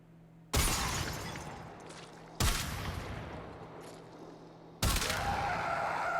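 The Kuva Zarr cannon in the video game Warframe firing in barrage mode: three loud, separate blasts a couple of seconds apart, each a sharp crack followed by a fading, crackling tail.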